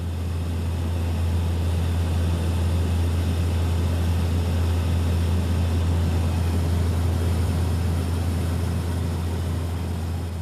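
Propeller aircraft in flight over the Antarctic polar plateau, heard from inside the cabin as a steady, loud, low droning engine hum with a constant rumble that runs unbroken throughout, with no voices.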